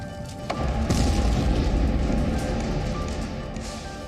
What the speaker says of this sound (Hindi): ये परमाणु बम का धमाका है।